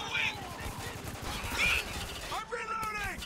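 Enemy gunfire in the shooter game Spec Ops: The Line, fairly faint rapid bursts of shots and impacts running throughout, with someone talking briefly near the end.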